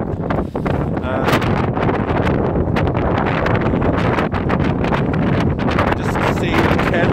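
Strong gusting mountain wind in the Mourne Mountains pummels a North Face Westwind tent, a dense, continuous roar of buffeting fabric and wind noise with sharp flaps and rattles throughout.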